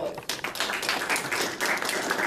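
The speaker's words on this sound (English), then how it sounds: "Please welcome him with a big applause." Audience applause in a conference room at a summit initiative conference in Tokyo, a brief burst of clapping from a modest crowd, moderately loud and uneven, with no speech over it.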